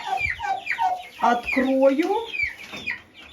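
A turkey hen and chicks cluck and peep inside a chicken coop, a busy stream of close, soft clucks and chirps, with someone speaking briefly.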